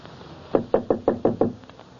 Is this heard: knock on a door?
yes